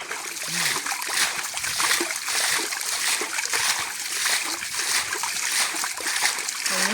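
Water trickles and splashes from a small spring in a forest, a steady continuous wash of running water with no break, fairly close and loud throughout.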